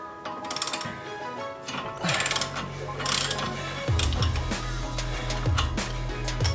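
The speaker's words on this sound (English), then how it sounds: "get my adapter, and we're basically just going to over torque it" A wrench with an adapter over-torques a wheel stud nut on a Subaru WRX, producing bursts of close, rapid ratcheting clicks followed by a steady low mechanical drone.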